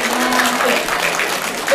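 A class of pupils claps together in a room, a steady dense patter of many hands sustained evenly from start to finish, loud and close, with faint voices mixed in.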